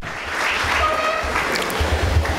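Audience applause honoring Sudhir Gadgil at an event, a continuous wash of clapping from a crowd in a hall, moderately loud and even throughout.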